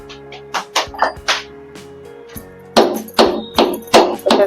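Dry ginger (sunth) pounded in a mortar: a run of sharp, close thuds in two bursts, first lighter strikes, then after a short pause a series of heavier, louder blows, no speech.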